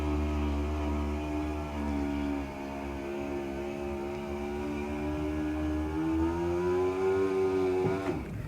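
Motorized bubble top canopy of a vintage car in operation, a steady humming motor whine that slowly rises in pitch before ending in a short clunk as it stops.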